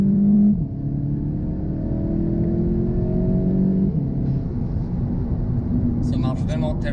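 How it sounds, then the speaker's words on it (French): Old 4x4 car engine driving and accelerating through a village, a steady close engine drone with rising gear whine and one shift partway through, while someone talks over it throughout. "Écoute-moi comment c'est une merveille cette voiture"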